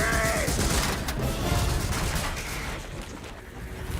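Gunfire in a Call of Duty video game crackles as a dense, continuous barrage of shots and booms, loud and close, fading somewhat toward the end with no talk over it.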